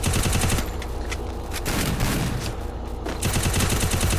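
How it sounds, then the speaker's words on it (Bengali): Dense, loud bursts of gunfire from the Free Fire Clash Squad video game, with overlapping rapid shots filling the whole stretch and no speech. "ওরে ফেদ্দুস, ও হপি একটা হেডশট লেগেছে, নক হয়েছে"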